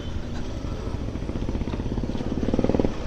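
Ola Roadster X+ electric motorcycle riding over rough off-road patches, with a steady close hum and rattling clatter from the suspension and chassis, and a louder burst of bumping near the end.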